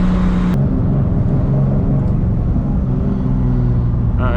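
A 1000+ horsepower MK4 Supra pulling hard in second gear, a loud, close, constant engine roar with a deep rumble and a rising whine throughout.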